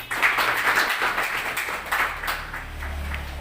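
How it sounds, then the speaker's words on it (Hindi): An audience at a business seminar applauds with dense, steady clapping that holds for a few seconds, then thins and fades slightly toward the end. "भाई साहब के लिए ताली होना चाहिए।"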